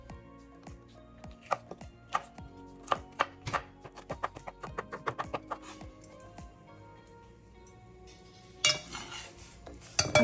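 A knife chops through yellow pepper on a cutting board in a steady run of crisp, close knocks that thin out, followed by a brief clatter of dishes near the end.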